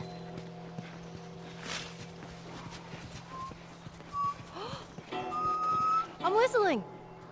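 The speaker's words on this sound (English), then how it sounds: "I'm whistling." A character in the video game The Last of Us whistles a few short, clear tones that rise toward the end, alongside footsteps and game ambience, with speech nearby.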